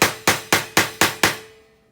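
A steel hammer taps a pin punch into the rotor of a 1954 Westclox Orb clock: six sharp, evenly spaced metallic knocks, each ringing briefly before the last one fades out.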